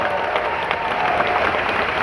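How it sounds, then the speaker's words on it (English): A large audience applauds steadily at a Disney's Hollywood Studios 35th anniversary show, a dense continuous wash of clapping with faint crowd noise underneath. "Let's give them another round of applause."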